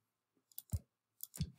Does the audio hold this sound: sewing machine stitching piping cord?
no